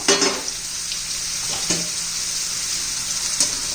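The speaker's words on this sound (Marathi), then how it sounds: "परतून मिरची आणि लसूण त्याच्यामध्ये आता आपण या दोडक्याच्या फोडी घालून घेऊया" Ridge gourd pieces sizzle in hot oil with chilli and garlic, a close, steady frying hiss broken by a few stirring scrapes, with no talking.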